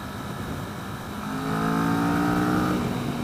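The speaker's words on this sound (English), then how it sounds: "These are wide open throttle pulls, by the way" A 2015 Kawasaki Vulcan S motorcycle engine pulling at wide open throttle, loud close exhaust drone rising steadily in pitch as it accelerates through a gear.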